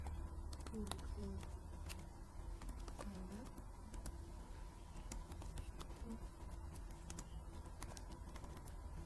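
Computer keyboard being typed on in quick, irregular bursts of faint clicks, heard over a steady hum and low background noise, with occasional soft bird-like chirps.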